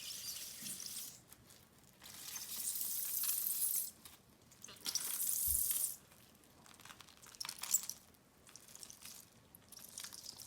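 Rubbing alcohol mixture is squeezed from an old t-shirt into a bowl, giving a steady hiss of dripping and trickling liquid that swells and fades in waves as the cloth is wrung.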